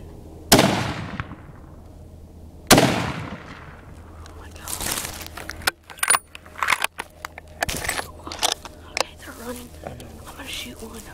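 A 7mm rifle is fired at a doe outdoors, giving two loud, sharp reports a couple of seconds apart, each with a decaying echo, followed by rustling, handling clatter and quiet talking.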